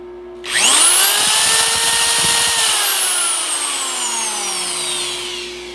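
A 6.3-amp half-inch Chicago Electric drill spins up sharply and whines loudly at a steady high pitch, then slowly winds down as the motor coasts to a stop.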